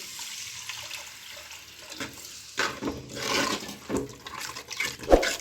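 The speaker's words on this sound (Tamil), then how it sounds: "புளி தண்ணி ஊற்றிக்கலாம்" Tamarind water poured into a fish curry in a pan, a close, splashing liquid rush that swells from a faint trickle into stronger surges with a sharp splash near the end.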